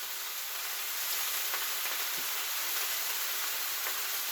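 A steak sears in a hot pan for a steak and potato dinner, giving a continuous, even, hissing sizzle that stays steady and close throughout, with no voices.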